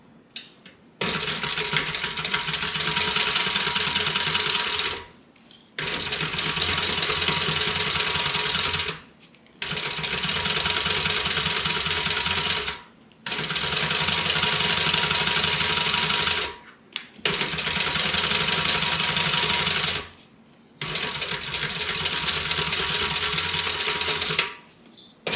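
A sewing machine stitches tote bag pieces in steady whirring runs of about four seconds each, separated by brief pauses, close and loud with no talking.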